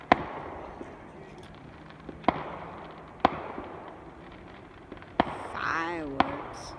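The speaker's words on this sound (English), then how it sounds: "Fireworks." Fireworks burst in the night sky in sharp, separate cracks spaced a second or so apart, booming from a distance, with a whistling shell rising near the end.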